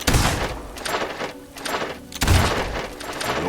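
Gunfire at a shooting gallery in the video game Fable II: dense, rapid volleys of shots in quick succession, loud and close, with brief dips between bursts.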